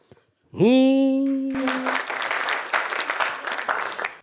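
An audience at a Hindi kavi sammelan poetry recital bursts into loud, sustained applause that follows a drawn-out vocal tone and continues steadily to the end.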